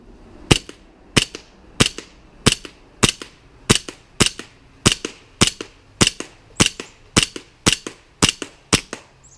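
Elite Force 1911 TAC Limited airsoft pistol fires BBs in sharp, loud single snaps, about fifteen shots at a steady pace of roughly one every 0.6 seconds, close up with no talk.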